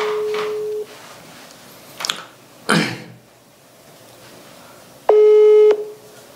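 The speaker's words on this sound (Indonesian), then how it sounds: "Jadi saya langsung telepon saja orangnya." A phone call being placed: a steady electronic tone, a few short clicks and rustles, then a loud harmonic ringback or dial tone near the end, with no talking.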